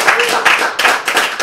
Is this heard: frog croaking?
no